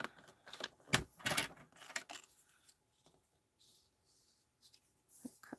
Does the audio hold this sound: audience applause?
no